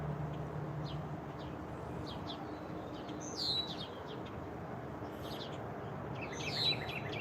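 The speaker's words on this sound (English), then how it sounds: "Listen to them birds." Birds chirp and tweet outdoors in spring, several bright, quick calls scattered through the scene at moderate distance over a steady background hiss, with louder bursts of song now and then.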